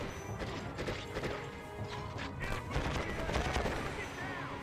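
Gunfire and crashing impacts from a combat mission in the video game Conflict: Desert Storm, a dense, continuous barrage of shots and bangs filling the whole stretch at steady loudness, with a voice faintly mixed in.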